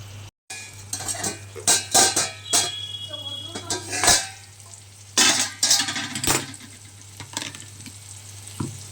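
Poppy seed paste being added to a hot pan and stirred, with repeated metal spoon scrapes and clinks over a soft sizzle and a steady low hum, some voice faintly in the background.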